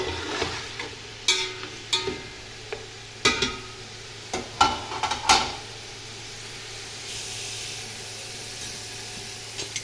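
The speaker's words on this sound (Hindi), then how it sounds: "ٹماٹر کو ہمیں تب تک بھوننا ہے جب تک کہ ہمارے ٹماٹر اچھی طرح سے سافٹ نہیں ہو جاتے۔" Tomatoes fry with chicken meat in a pot, giving a low sizzle under sharp clattering stirs and spoon knocks, several strokes then a quieter simmering hiss, with no talk.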